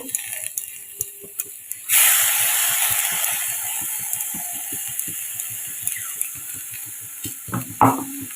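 Spice paste hits a pan of frying flat beans: after a quiet stretch of light ticking, a loud sizzling hiss bursts in and holds steady, fading slightly with occasional stirring scrapes.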